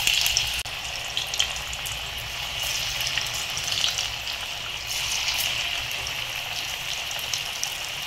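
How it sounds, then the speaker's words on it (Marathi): Alu vadi frying in very hot oil in a kadhai over high flame, a dense, continuous crackling sizzle up close, steady throughout with no speech. "वड्या तळताना आपण गॅस मोठाच ठेवून तळायचं"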